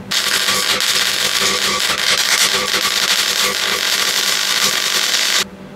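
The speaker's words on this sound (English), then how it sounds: "we can get this tacked on now, welded" Close, loud, continuous crackling hiss of a tack weld fixing a jacking bracket onto a Classic Mini's crossmember, sustained for about five seconds before cutting off abruptly.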